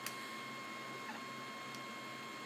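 An I3v 3D printer runs its first print at speed 50, giving a steady mechanical whir with a faint electronic whine and occasional soft clicks as the print head moves.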